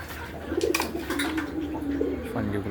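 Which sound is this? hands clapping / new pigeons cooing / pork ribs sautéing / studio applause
new pigeons cooing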